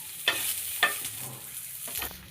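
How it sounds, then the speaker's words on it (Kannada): Oil frying in a pan on a tava, soft steady crackle with a couple of sharper scrape-like stirring hits, close and fairly quiet, no voices. "ಎಣ್ಣೆ ಹಾಕ್ಕೊಂಡ್ಬಿಟ್ಟು ಫ್ರೈ ಮಾಡ್ಕೊಳ್ಳಿ. ನೀಟಾಗಿ ಫ್ರೈ ಮಾಡ್ಕೊಳ್ಳಿ."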